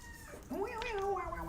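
A cat gives a single drawn-out meow with a rising, wavering pitch, heard over a steady background hum.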